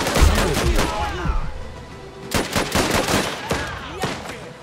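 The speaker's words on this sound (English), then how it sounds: "let the machine gunner do his work" Machine gun fire in the Last Train Home strategy survival game, rapid crackling bursts and shots mixed with battle noise, loud and busy, easing into scattered single shots with faint voices beneath.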